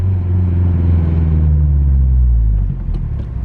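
A Mazdaspeed 6 engine running close up, a loud, steady low rumble at idle that settles slightly lower near the end.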